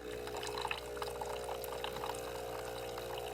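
Hot water streams from the spout of a Breville espresso machine just back from service, a steady splashing pour with a faint pump hum underneath, close and continuous, no one speaking.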